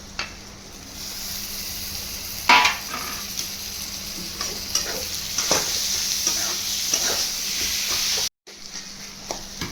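Chopped tomatoes sizzle loudly in a pan with spices, the steady hiss joined by repeated scraping strokes of a spatula and one harder knock, close by, with a brief silent break near the end.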